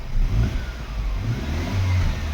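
A Mercedes-Benz C-Class W204 engine runs close by with a steady low rumble and slight revving swells, loud and alone for a couple of seconds.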